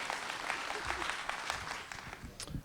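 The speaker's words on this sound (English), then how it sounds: "Please, first, give them a round of applause" An audience at a film project crew networking event applauds in a lively burst of close, crisp claps, with crowd murmur and a few voices mixed in beneath.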